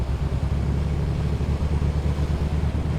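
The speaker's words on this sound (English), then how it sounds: "So you can hear that this engine is slightly less happy." A light aircraft piston engine in a flight simulator, the Comanche 250, idles with a steady, slightly uneven low throb, loud and close, running continuously without any voices.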